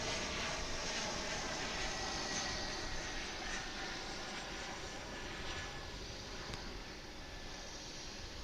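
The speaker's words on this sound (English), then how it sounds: "Here comes another regional flight" A regional airliner arrives at DFW airport, heard as a faint, distant, steady jet roar that barely changes.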